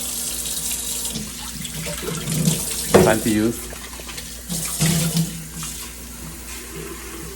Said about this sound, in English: the water from the tap.